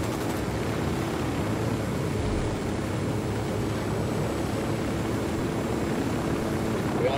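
An aircraft engine roars steadily during takeoff in Tom Clancy's Ghost Recon Wildlands, a loud, even drone that holds without break throughout.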